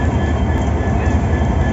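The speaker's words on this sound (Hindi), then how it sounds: "तो ये कौन सी इंजन है जा रही है" A diesel locomotive rolls past at Agartala railway station with a loud, steady, heavy rumble that fills the whole moment without a break.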